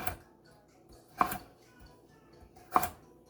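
A knife cuts through peeled small carrots on a board, giving three distinct sharp chops spaced well apart, close and clear over a quiet background.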